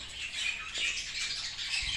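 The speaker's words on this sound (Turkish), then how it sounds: "Gördüğünüz gibi arkadaşlar yeni yeme düşmüş çok tatlı şeker gibi kuşlar." Young Forpus parrotlets, newly weaned, give thin, rapid chirps and squawks in a continuous, soft chatter nearby, with no one talking.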